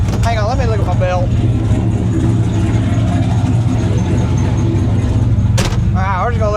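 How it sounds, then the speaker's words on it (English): A loud, rough engine of a 1976 turbocharged Ford F250 truck with no exhaust fitted idles steadily up close, its heavy low rumble continuous, while a person speaks briefly at the start and near the end. "There's no exhaust on the truck because it was too quiet."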